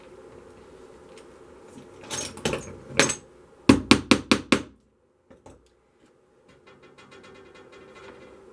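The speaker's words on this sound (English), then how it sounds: "Now remove this nail. So that's what you have to do as you make. You take the nails out." A hammer works nails loose from a leaded stained glass beginner's panel: a few scattered knocks, then a quick run of five sharp, close metallic taps, followed by faint handling clicks.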